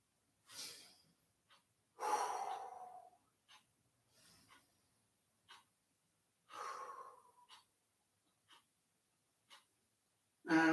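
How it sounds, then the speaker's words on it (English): Slow, deep breaths during a stretching exercise class, several audible inhales and exhales with short snorting gaps between them, close and quiet with no talking. "I'm going to breathe through."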